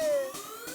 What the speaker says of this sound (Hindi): एम्बुलेंस कहाँ से आ गया?